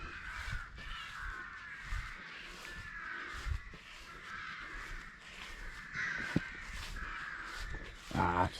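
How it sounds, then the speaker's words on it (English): Rooks cawing repeatedly around a rural building on a hot sunny day, harsh rhythmic calls from several birds at middle distance, steady throughout with a louder burst near the end. "Lots of rooks."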